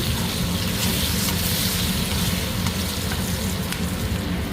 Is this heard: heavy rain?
no